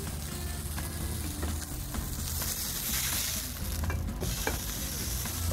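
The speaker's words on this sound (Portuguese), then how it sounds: "Carne tá bem douradinha, eu já vou virar" A burger patty sears in a hot frying pan with a loud, close, continuous sizzle, broken by a few light scrapes and clicks and no talking.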